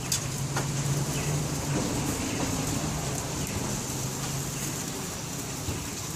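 Steady rain hisses across surfaces at a street food stand in Mexico, a dense even patter close by, with faint low hum in the background.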